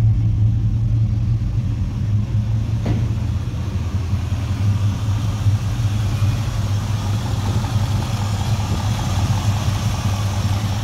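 A 1967 Chevrolet Caprice lowrider's engine idles steadily with a deep, low rumble, loud and close, holding an even, unbroken tone throughout with no talking.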